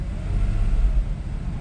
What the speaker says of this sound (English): So that's the sound of the car without the sports exhaust engaged,